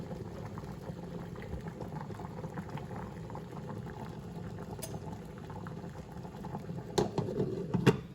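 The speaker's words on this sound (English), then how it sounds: "We got the rice boiling right now." Cilantro lime rice boils in a pot on a home stove, a steady low bubbling and gurgling throughout, with a few small clinks and knocks near the end.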